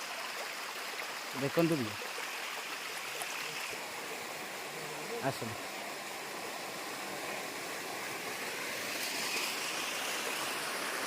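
Steady broadband rush of a stream flowing over stones along a village path near a Buddhist site in Nayagarh, running continuously throughout with someone talking briefly over it.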